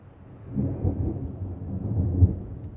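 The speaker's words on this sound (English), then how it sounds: "I don't know if you could hear that, but there's a big storm coming in" Deep, rolling thunder from an approaching storm rumbles steadily for a few seconds, low and heavy with no voices over it.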